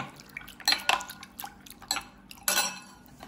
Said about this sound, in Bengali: এর মধ্যে আমি একটু ঠান্ডা জল দিয়ে দিব। দিয়ে এটাকে ভালো করে মিশিয়ে নেব।